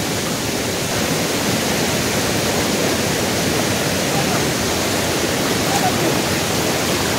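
Lodh Falls in monsoon season, a loud unbroken roar of rushing, crashing water that fills the whole scene close by.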